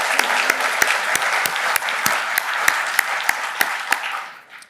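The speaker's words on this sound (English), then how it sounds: "one more round of applause for our Board of Trustees" An audience at a district members' meeting and election claps in sustained applause, a dense steady wash of hand claps with sharper individual claps standing out, fading away at the end.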